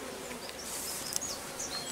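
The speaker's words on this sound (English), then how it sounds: "There are a lot of bees here." Honey bees buzz around a beehive in a dense, steady drone, with individual bees whining past close by.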